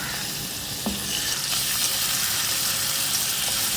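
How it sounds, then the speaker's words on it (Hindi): Steady, loud sizzling of garlic ginger paste frying in hot oil, a continuous crackling hiss with a few brief clicks, no voices. "लहसुन अदरक मैंने फ्राई कर लिया है।"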